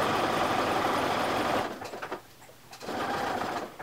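A sewing machine stitches along the edge of a fleece mitten, a steady close motor whir for the first second and a half, then a short drop to quieter gaps before the loud running resumes.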